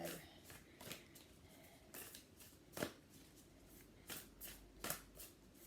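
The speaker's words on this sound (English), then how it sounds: "So I'm just going to pull 2 cards, I think, from Angels and Ancestors and 2 from Spirit." Oracle cards pulled and shuffled from a deck, soft papery flicks and slides arriving in scattered bursts, close but quiet, with no talking.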